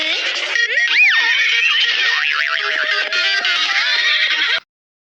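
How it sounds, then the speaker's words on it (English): A horse whinnies loudly and clearly, a long wavering neigh that rises and falls for several seconds before cutting off abruptly. "H for horse, H for horse."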